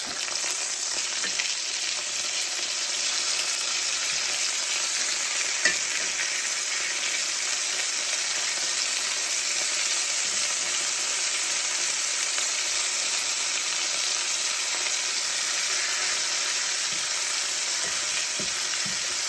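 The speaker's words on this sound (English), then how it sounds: "So I'm going to fry this up a little bit, flip it over, and show you what it looks like." Herb-crusted chicken frying in a pan, a steady bright sizzle that holds evenly throughout with small crackles and pops on top, close and continuous with no talking.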